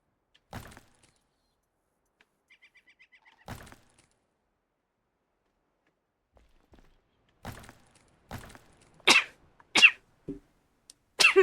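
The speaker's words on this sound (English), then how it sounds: "Sneezing." A person sneezes in several short, sharp bursts separated by quiet gaps. The bursts grow louder and closer together toward the end.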